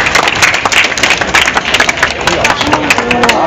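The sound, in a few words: audience applause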